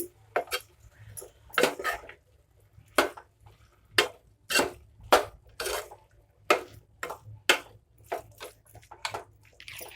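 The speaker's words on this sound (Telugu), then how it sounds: "ఇంతకుముందు మనం ఆలు ఫ్రై చేసుకున్నాం కదా ఇందులో వేసేస్తున్నాను ఒకసారి బాగా మిక్స్ చేసుకున్నాము" A utensil scrapes and clanks in a pan as fried potatoes are mixed in for a coconut-based potato fry, with a series of distinct metallic strokes in an irregular rhythm, close and fairly loud, without speech.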